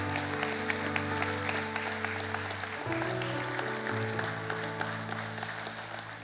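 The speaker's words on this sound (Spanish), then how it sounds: "Vamos, denle un aplauso a Dios." A church congregation applauds steadily for several seconds, a dense wash of clapping filling the room, with sustained music or organ tones underneath.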